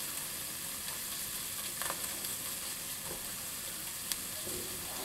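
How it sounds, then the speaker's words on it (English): Sauce thickened with cornstarch sizzles steadily in a pan for potato dish, a constant close frying hiss with a few faint clinks and stirring sounds. "we're going to let this sizzle until we cook out some of that pasty flavor from the cornstarch"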